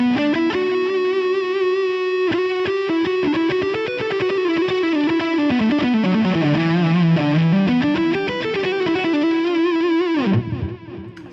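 Stratocaster electric guitar played through heavy metal-style distortion with delay and medium room reverb, sustained riffing and bending notes loud and alone for about eleven seconds, then cutting off at the end.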